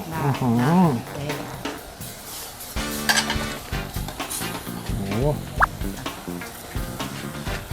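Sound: stirring chicken and banana curry in a pot

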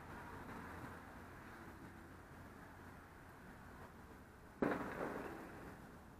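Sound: distant firecrackers during Fallas festival

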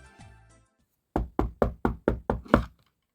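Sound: knocking

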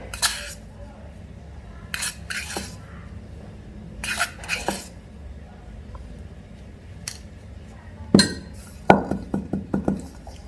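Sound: scooping ground coffee into moka pot basket

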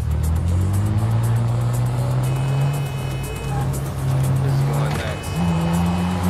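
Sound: car driving with tire squeal in video game NTE: Neverness To Everness

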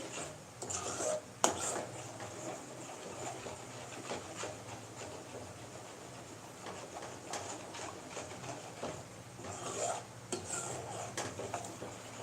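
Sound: stirring urad dal kali (black gram porridge) in a pot

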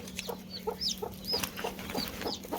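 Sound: hen clucking with chicks

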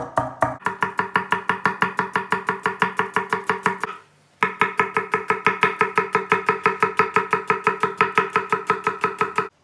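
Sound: chopping onions

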